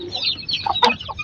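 A hen clucks nearby in a short series of soft, irregular clucks and chirps, close and fairly quiet.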